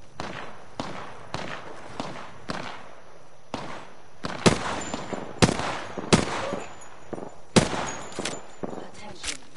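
Gunfire in an Apex Legends match: repeated sharp bursts and single shots, some in rapid clusters, loud and close, with intermittent game effects between volleys.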